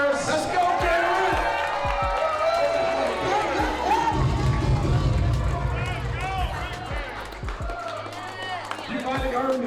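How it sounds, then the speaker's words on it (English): A crowd at an e-gaming finals cheers and applauds loudly and steadily throughout, with whoops and shouts rising over the clapping and babble of voices. "Let's give them a round of applause"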